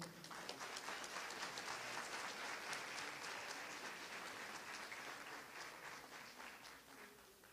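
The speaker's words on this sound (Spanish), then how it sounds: "Un fuerte aplauso, por favor." Conference audience applauding warmly, dense sustained clapping from a sizable crowd that holds steady and then slowly thins toward the end.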